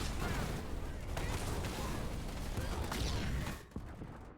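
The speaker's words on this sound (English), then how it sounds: "the captain falls as the Archer missile comes down" An Archer missile strike in the real-time strategy game Halo Wars 2 arrives as a dense, noisy barrage of booming impacts and gunfire. It is loud and continuous, then cuts off abruptly near the end.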